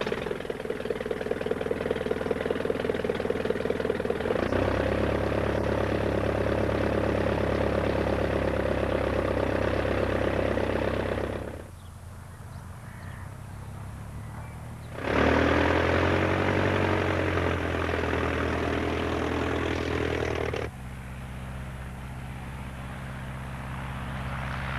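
A triplane's propeller engine runs steadily and loudly, with a throaty drone that briefly drops off, then surges back up before settling again.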